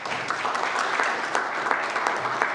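Members of a legislature, the Newfoundland and Labrador House of Assembly, applaud in congratulation: steady, dense clapping from a roomful of people, moderately loud and sustained without pause.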